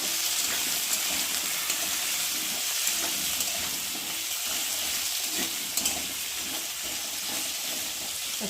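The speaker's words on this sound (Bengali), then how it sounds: "চলো একটু আলুটা একটু ভাজা ভাজা করে নিই" Small pieces of cut potato fry in a pan with onions, a continuous crackling sizzle with occasional louder spits and light stirring scrapes, close and even throughout.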